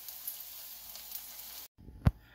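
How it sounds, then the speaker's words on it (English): Steady, soft sizzling of chicken deep frying in hot oil, with a brief pause and a sharp clatter near the end. "we're just gonna go ahead and start deep frying them"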